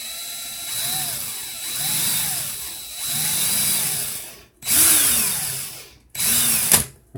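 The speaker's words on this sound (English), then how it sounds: "Make sure that my drill is in reverse or the opposite direction as you did the first" A power drill running in reverse whirs in repeated bursts, spinning up and winding down several times, with short gaps between the runs.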